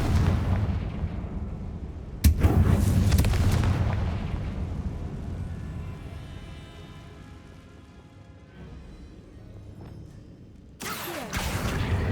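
The Confringo fire spell in Hogwarts Legacy bursts with a sharp, loud blast and a rumbling roar that slowly fades, followed later by a second sudden boom.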